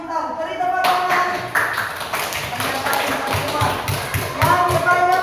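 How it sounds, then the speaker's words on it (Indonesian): Children in a classroom clap their hands in applause for a classmate, a dense run of close, sharp claps lasting several seconds with voices mixed in. "Beri tepuk tangan."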